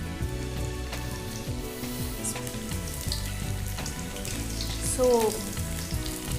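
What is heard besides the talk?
pieces frying in deep-fry oil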